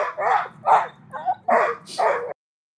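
A dog barks five times in quick succession, loud and close, with short yips between, no other sounds around.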